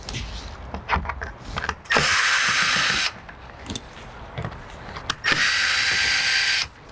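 A power drill backs screws out from the underside of a raised vehicle, with two long, loud, steady whirring runs between softer clicks, clanks and handling noises, close up and with no voices.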